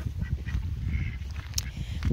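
Three separated ducks give rough honking quacks, several calls in quick succession at close range over steady farmyard background noise, with no talk.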